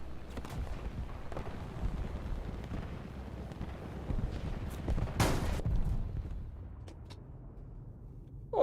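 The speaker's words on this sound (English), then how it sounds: "that's the second nuke of the day" Nuclear bomb detonating in War Thunder, a sudden roaring blast bursting out of steady wind-like rumble, then a long fading low rumble.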